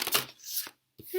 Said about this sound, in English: these cards are just not wanting to shuffle